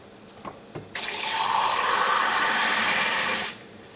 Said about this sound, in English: I'm going to put it in this mug. I'm going to fill it with water.